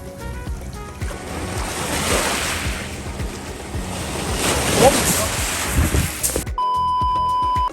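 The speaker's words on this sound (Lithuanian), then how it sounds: "praplaukė laivas ir bangas sukėlė" Waves raised by a passing boat wash onto the shore of Lake Garda, surging and splashing close by in gusty wind, with wind buffeting the microphone.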